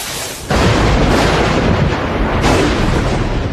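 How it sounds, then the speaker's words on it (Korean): Lightning is used to cut a piece of steel, arriving as a sudden loud crackling burst of broadband noise after a brief lull, then roaring steadily on with a second surge near the end. "그래서 번개의 힘을 이용해 강철 조각을 절단하기로 합니다."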